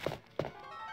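Two heavy, padded thuds land about a third of a second apart, close and fairly loud, as a zombie dog approaches in Resident Evil 2, followed by a low steady background hum.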